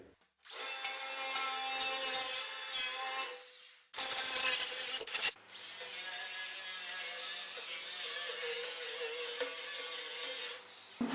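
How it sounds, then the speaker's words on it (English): An angle grinder cleans packed dirt and grime out of a worn tractor part, a loud, steady, harsh grinding and rubbing that runs continuously, broken by a brief pause near the middle before resuming. "I'm actually going to start by leaving it right here and getting the grinder in here and cleaning all this out, getting all this dirt and crap out of here"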